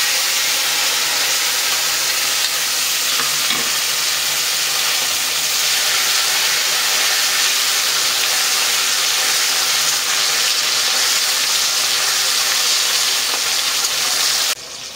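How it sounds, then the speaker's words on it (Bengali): Chopped tomato hits hot oil already spiced with cumin, bay leaf, dried chilli and cardamom, giving a loud, steady, hissing sizzle that runs unbroken for the whole stretch and drops off sharply at the very end. "এখন আমি কুচানো টমেটোটা দিয়ে দিই।"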